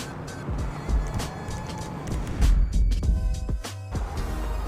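A stolen car driven in GTA Online rumbles along with a steady low engine drone, punctuated by bursts of louder impacts and whooshes, fairly close and continuous without speech.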